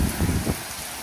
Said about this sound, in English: I miss this Florida rain. It's just beautiful.